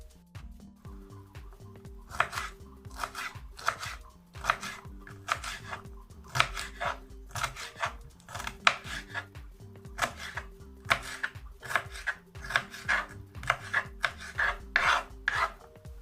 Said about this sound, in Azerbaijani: Yarım yaşıl biber doğrayıram.